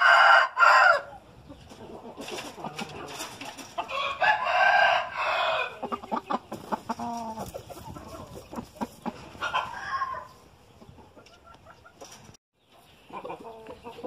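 A rooster crows loudly several times, with clucking and scattered farmyard noises between the calls; no one speaks.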